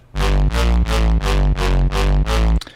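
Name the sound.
distorted FM8 halftime bass synth sound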